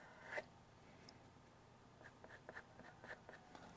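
A pastel pencil draws whiskers on paper: faint scratchy strokes, one short stroke early, then a quick series of light repeated flicks, close and quiet, no talking.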